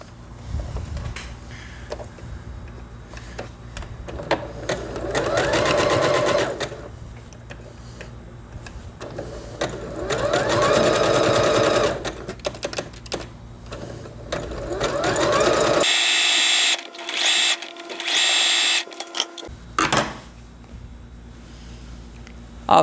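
Domestic sewing machine running a zigzag stitch on knit fabric, in several sustained bursts of rapid mechanical chatter separated by pauses, close and fairly loud, with a higher-pitched whirring stretch near the end.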